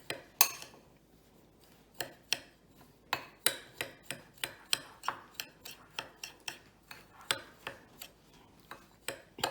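Brown sugar and white sugar being stirred together in a bowl for a pumpkin cake, giving a steady run of sharp clinks and scrapes of utensil against the bowl at a brisk, regular rhythm, close and fairly quiet with no talking.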